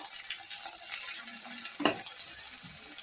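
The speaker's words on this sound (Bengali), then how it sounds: "মশলাটা আমি কষিয়ে নিচ্ছি ভালো করে" Spices with tomato and ginger-garlic paste frying for Bombay aloo dum, giving a steady close sizzle with soft stirring scrapes and one brief louder clatter partway through.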